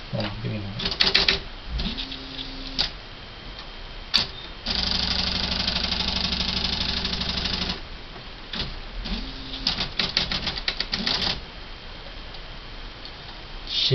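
Smith Corona SL575 electric typewriter running a correction: rapid clacking keystrokes and mechanical whirring, with a steady motor hum partway through and more key strikes after it. Someone speaks at moments.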